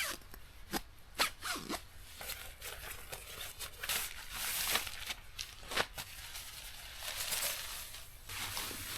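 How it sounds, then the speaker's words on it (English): A tent zipper at a backpacking campsite being drawn in a series of quick rasping pulls, with short bursts and pauses over several seconds and faint rustling of fabric in between. "Oh, I forgot to zip it up."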